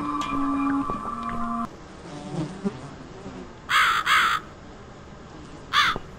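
A crow in the horror game The Cat Lady gives two loud, harsh caws after ambient electronic tones and faint background noise, with no talk.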